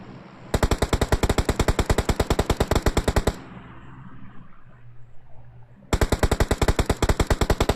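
Two long bursts of rapid automatic gunfire in a video game, loud and close, separated by a few seconds of quieter background noise.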